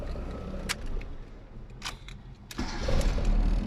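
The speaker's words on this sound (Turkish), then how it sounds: "Bir de gaz vermeden marş gösterelim." A car engine cranks and fires without the gas pedal pressed, after a repair and tune-up: a few sharp clicks, then a low rumble that builds into a steadier idle near the end.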